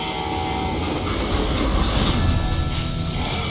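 Train running in the Western video game Call of Juarez, a steady, loud rumbling roll with rail clatter and hiss that fills the clip continuously with no breaks.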